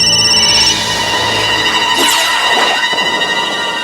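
A telephone rings indoors, its trilling bell tone sounding steadily with a faint background hum and no voices.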